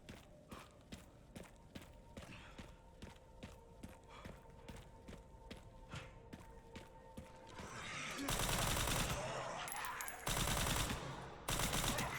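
Gunfire and footsteps in the survival horror game Resident Evil Requiem: sharp regular shots and steps at first, then loud dense bursts of firing in the last seconds, with no talk.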